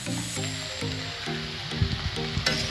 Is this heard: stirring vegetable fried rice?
yes